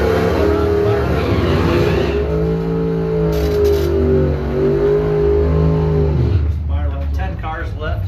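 Drag racing cars launching down the strip at a bracket race, a loud sustained engine roar with rising and shifting tones, then a change as the cars pull away, with an announcer talking over it.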